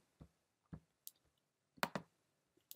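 Sparse computer mouse clicks on a button, several short quiet taps spaced irregularly with a quick double click near the end, no voices.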